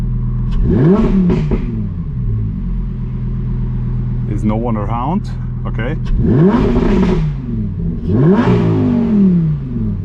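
A 2025 Lamborghini Huracán Tecnica's V10 engine revs up three times with the windows down, each roar climbing sharply then falling, with a brief spoken remark between the revs.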